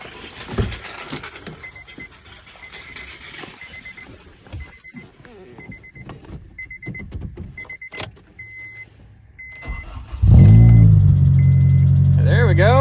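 A car engine cranks and catches at about ten seconds, then idles loud and steady, after quiet rustling, a repeating chime and a key being handled; voices talk beforehand.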